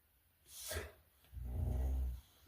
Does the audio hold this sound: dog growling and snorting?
yes